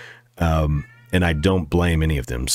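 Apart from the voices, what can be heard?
cat meowing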